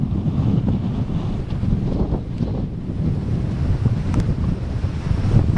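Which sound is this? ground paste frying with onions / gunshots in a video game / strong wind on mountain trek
strong wind on mountain trek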